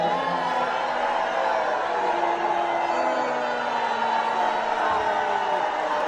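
A town hall crowd in a deep red district boos loudly and steadily, a dense, unbroken roar of many voices that fills the whole stretch without pause.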